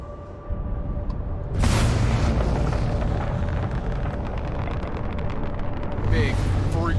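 Ship deck guns fire in the space game Starfield: a sudden loud, rumbling blast erupts and keeps roaring heavily, with another surge near the end over a steady hum.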